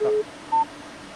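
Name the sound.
telephone dialing tones on radio show phone line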